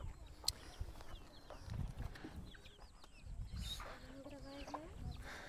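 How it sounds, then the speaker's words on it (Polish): Chickens in a village in Angola cluck and murmur softly over a steady background hum, with a few scattered calls throughout; moderately distant and fairly quiet. "Możecie zobaczyć, kurczaki mi tam łażą."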